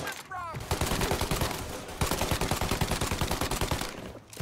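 Gunfire in the video game Mafia: dense, rapid bursts of shots crackling loudly in two long volleys with a short gap between, close and continuous.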